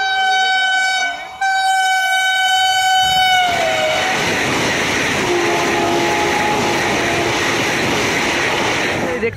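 A train at Begampur railway station sounds a loud, sustained horn that then gives way to a roaring rumble and rattle of the rolling train, close and heavy throughout.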